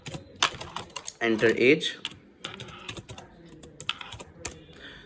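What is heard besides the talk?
typing Python code on a computer keyboard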